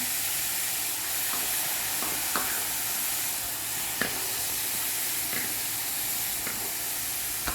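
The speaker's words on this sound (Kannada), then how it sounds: "ಈಗ ಬೊಂಡಾಸನ್ನು ಇದಕ್ಕೆ ಹಾಕ್ತಾಯಿದ್ದೀನಿ." Squid stuffed with masala fries and sizzles in a pan, with a steady hiss and occasional stirring clicks, close by and with no talk.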